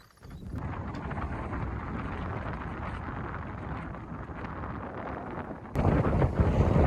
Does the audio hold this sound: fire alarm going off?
no